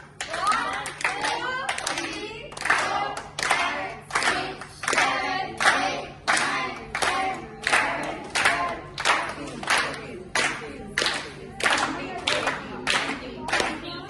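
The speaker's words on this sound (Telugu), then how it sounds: "25 క్లాప్స్ 25 క్లాప్స్" Guests at a 25th wedding anniversary party clap together in steady, rhythmic bursts, a long run of close, loud claps with short pauses between rounds and children's voices faintly mixed in.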